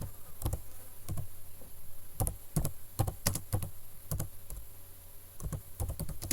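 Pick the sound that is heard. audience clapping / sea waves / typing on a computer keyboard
typing on a computer keyboard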